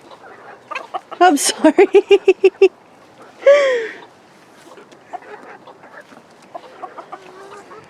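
Farm hens clucking close by in a short rhythmic burst of calls, followed by a single longer squawk, then quieter scattered clucks, with a person speaking briefly.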